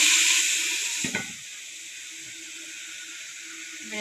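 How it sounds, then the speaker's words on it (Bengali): Vegetables for vegetable khichuri being stirred in a pot, with a steady sizzling hiss and a brief scraping stir near the start, then quieter steady cooking sizzle without talk. "এবার নাড়াচাড়া করে আমি ঢেকে দিচ্ছি সবজিগুলো"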